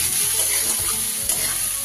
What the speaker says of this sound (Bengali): পেঁয়াজটা যাতে তাড়াতাড়ি ভাজা হয় তাই দিয়ে দিচ্ছি নুন।